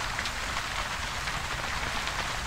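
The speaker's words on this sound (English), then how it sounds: "I like how the rain leaks through the roof here." Steady rain drips and patters inside a warehouse through a leaky roof in the Ghost Recon video game, a continuous dense hiss of falling water with no voices.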